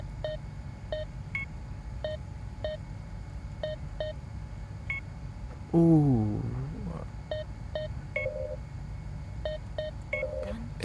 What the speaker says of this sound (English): It's just that you type it in on the actual keyboard.